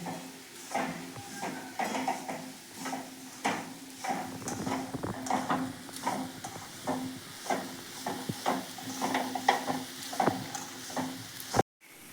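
Garlic, chilli and crumbled rotlo frying in a pan for a Kathiyawadi dhaba-style vagharelo rotlo, with repeated close scraping stirs and clinks of a spoon against the pan over a faint sizzle, ending abruptly, no talk.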